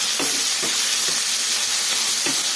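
Food fries in oil over a medium flame in a home kitchen, giving a loud, continuous sizzling hiss broken by several soft stirring scrapes at irregular intervals.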